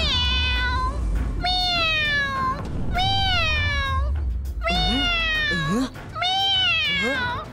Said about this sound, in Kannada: ಅರೆ ಇದು ಕ್ಯಾಟ್ನ ಸೌಂಡ್ ಎಲ್ಲಿಂದ ಬರ್ತಿದೆ?